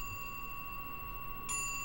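In an old clockmaker family's abandoned house, an old clock's bell strikes the hour after its Westminster chime. A sustained ringing tone hangs in the quiet room until a single fresh bell strike sounds near the end.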